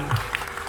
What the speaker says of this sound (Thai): ขอเสียงจากผู้ปกครองปรบมือให้กับเด็กๆเลยครับ